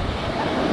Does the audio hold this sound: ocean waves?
yes